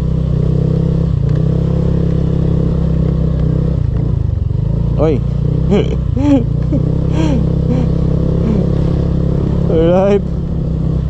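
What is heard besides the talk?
Honda Click and Mio motorcycles riding up a mountain trail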